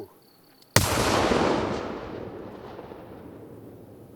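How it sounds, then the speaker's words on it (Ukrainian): A single sharp, loud blast from a detonated explosive device erupts after a quiet moment, followed by a long rumbling decay that fades over several seconds. "Вибух!"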